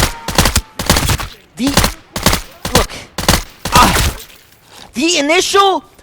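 An F2000 assault rifle in a video game fires in rapid, loud bursts of automatic fire separated by short pauses, and a voice briefly joins in near the end.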